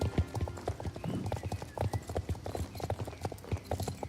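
Horse hooves clip-clopping in the video game Star Stable, a steady rhythmic trot of close, distinct thuds with a brief whinny-like tone, no talk.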